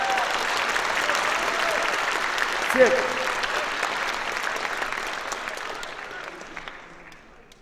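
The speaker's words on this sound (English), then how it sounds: "Everyone give them a round of applause." An audience at a school assembly applauds in a broad wash of clapping and crowd noise that gradually fades away, with a short spoken word partway through.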